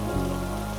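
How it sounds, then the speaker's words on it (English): Soft, steady rain falls outside in a rain-soaked town, an even continuous patter on surfaces with no pauses or voices, close and gentle throughout. "Outside, the rain continues, soft and steady, patient as ever."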